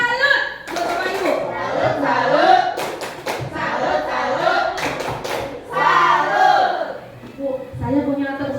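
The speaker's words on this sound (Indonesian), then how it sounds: "Tepuk salut buat Bapak Ibu." A group of teachers claps a rhythmic 'tepuk salut' pattern, groups of crisp claps set between chanted voices, close and lively.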